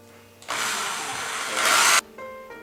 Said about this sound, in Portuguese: na parafusadeira, coloque devagar e vá observando se a madeira não vai trincar